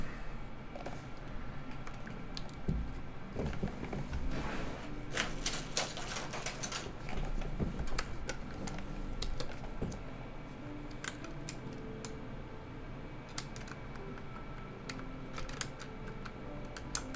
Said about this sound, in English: I swear I know how to put keycaps on.